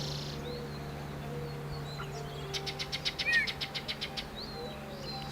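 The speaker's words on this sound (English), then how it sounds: "That right there, yellow-breasted chat." A yellow-breasted chat calls outdoors in the morning, a rapid run of about a dozen evenly spaced clipped notes rising out of a steady background hum, with a few fainter chirps around it.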